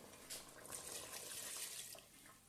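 Tap water runs and splashes into a pot while sesame seed soup is being made in a home kitchen. The stream is soft and continuous, with a few brief surges.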